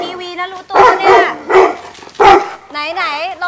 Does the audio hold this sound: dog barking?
yes